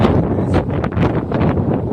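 Strong wind outdoors buffets the microphone in a loud, continuous low roar with uneven gusts and no talking.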